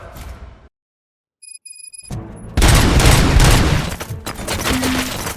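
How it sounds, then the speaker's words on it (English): Gunfire in the RoboCop: Rogue City video game, a sudden loud sustained fusillade of overlapping shots and booms that breaks in after a short silence and keeps rattling to the end. "Gunshots? What's going on?"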